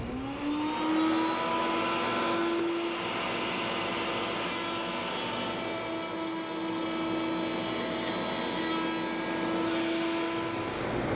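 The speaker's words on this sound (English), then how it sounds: "continue to set up and cut the necessary dados based on my story stick" A power tool cuts dados in wood for a computer desk build, a sustained whining drone with a steady tonal pitch running loud and continuously throughout, with no talking.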